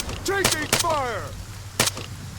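Gunfire in the military shooter ArmA 3: a few sharp, loud shots spaced across about two seconds, with a voice speaking between them.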